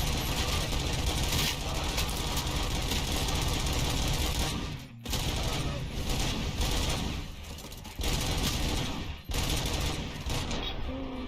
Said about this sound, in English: then everyone starts shooting